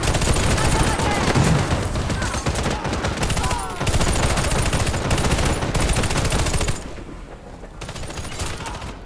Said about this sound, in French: Mitrailleuse en service!